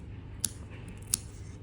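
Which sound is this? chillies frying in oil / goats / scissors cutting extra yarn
scissors cutting extra yarn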